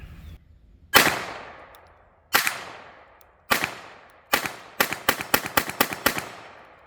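A Ruger LCP II .22LR pistol fires subsonic ammunition: three spaced single shots, then a faster string of about seven sharp cracks with short decaying tails, fairly close and alone.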